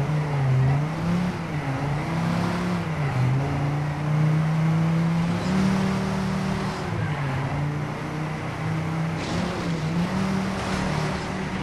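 A race car in TrackMania 2 Canyon drives the track, its engine a steady, loud droning whine that rises and falls with gear shifts and throttle, continuous with no talk over it.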